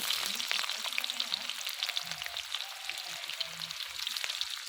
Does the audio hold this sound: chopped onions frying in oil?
yes